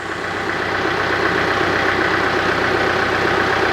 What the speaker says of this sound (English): Hopefully the tractor will do the job.